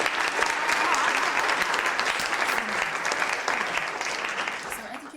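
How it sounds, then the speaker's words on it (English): A steady round of applause from a group fills the moment, dense and sustained clapping at moderate distance that begins to taper off at the very end. "And can we just get a round of applause?"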